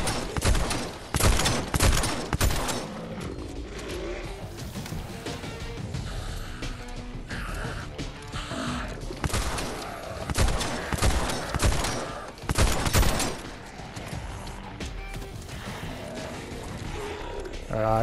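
Shotgun blasts ring out in the Dead Island 2 video game, several heavy booming shots in fast bursts amid a dense, loud mix of game action and crashing, with voices talking over it.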